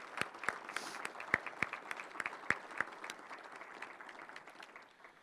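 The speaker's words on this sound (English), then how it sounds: "I'd like to offer them a round of applause for joining the organization" A small audience at an economic partnership's investor annual meeting claps for new investors: sparse, distinct hand claps over a soft bed of applause, fading out after about four seconds.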